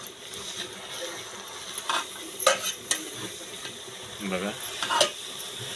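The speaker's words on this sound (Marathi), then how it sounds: "आता घ्यायचं हलवून, बुडापासून हलवून घ्यायचं, म्हणजे मग सगळ्याला मिक्स होती" A leafy vegetable curry with chutney being stirred up from the bottom of the pan, repeated scraping spoon strokes over a low sizzle, close by, with a brief spoken word.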